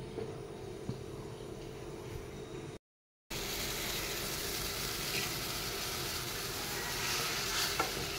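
A small fish curry comes to a boil in a pan. A continuous close bubbling sizzle drops out briefly, then returns steadier and fuller, and no one speaks.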